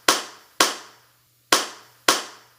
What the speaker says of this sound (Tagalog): Kapag naman pumalakpak